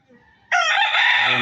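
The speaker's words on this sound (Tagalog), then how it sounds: "Ayan po, ito yung aking manukan dito. Munting manukan lang" A rooster in a small gamecock coop crows once, a loud, close, sustained call that starts abruptly after faint background noise and holds for about a second.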